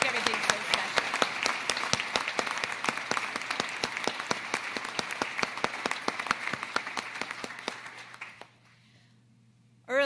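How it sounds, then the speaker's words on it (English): Ceremony audience at a Naval Nuclear Propulsion Program change of command applauds the Navy Color Guard and Ceremonial Guard, crisp rhythmic clapping that thins and stops abruptly near the end, followed by a brief near voice. "So if we could all give another round of applause for these professionals."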